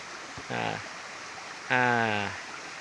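The Citahanan River flows with a steady, even rush of water in the background. Two short voiced tones sound over it, one brief and one longer.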